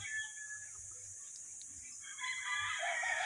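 A Mt. Banahaw butcher-bloodline F1 rooster crows faintly in the distance, a drawn-out call rising over a low background hum, with more crowing joining toward the end.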